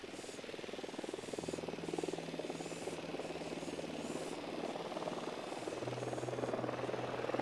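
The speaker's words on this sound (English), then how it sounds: "Drone is up." A drone hovers in the Ghost Recon Wildlands video game, a continuous whirring rotor drone with a steady pulsing hum that holds at a moderate level with no talk.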